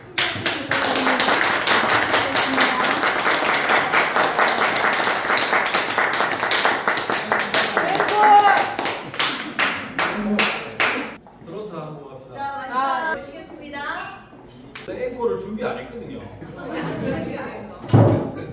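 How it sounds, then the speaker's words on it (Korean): Audience clapping after a classical healing-music ensemble concert, a fairly close, rhythmic run of individual claps that thins out into scattered claps and chatter. "큰 박수 부탁드립니다."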